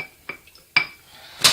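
Dishes, cutlery and cat bowls being washed: a few sharp clinks and clatters of metal and crockery spaced apart in a quiet room, with a louder splash-like clatter at the end.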